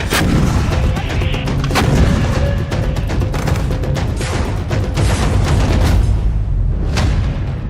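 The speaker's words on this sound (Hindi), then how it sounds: "यहां लगातार धमाके हो रहे हैं" Repeated heavy booms and blasts of explosions and gunfire on the Israel–Lebanon border, loud and irregular, over a constant rumbling background.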